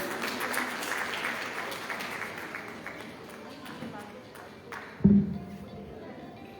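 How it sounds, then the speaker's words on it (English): An audience applauds at a Women's Day 2026 honouring event in Kolkata, with sustained clapping that fades over several seconds, followed by a sharp thump or handling knock near the end. "Can I have a round of applause again?"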